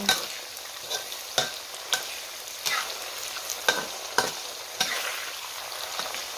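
Sago palm weevil larvae frying with kaffir lime leaves, stirred in the pan: a steady bright sizzle broken by sharp scraping strokes about every half second, close and with no voices.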